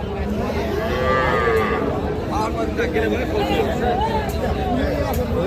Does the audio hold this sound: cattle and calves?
yes